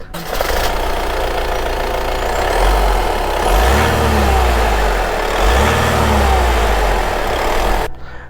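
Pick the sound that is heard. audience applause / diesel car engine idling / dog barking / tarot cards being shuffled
diesel car engine idling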